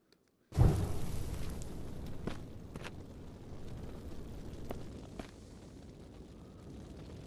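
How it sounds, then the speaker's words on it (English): A fireball spell bursts in the VR wizard game The Wizards: Enhanced Edition, striking suddenly after a brief silence and trailing into a long, rumbling roar that slowly fades. "Should probably have a fireball at the ready"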